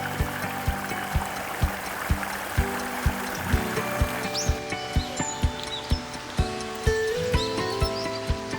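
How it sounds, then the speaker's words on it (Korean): Clear water babbling in a forest stream, a steady trickling and gurgling with bright splashy detail, close and moderately loud, with faint rustling and occasional bird chirps over it. "지금 물소리가 아주 청아하게 맑은 물소리가 나는데"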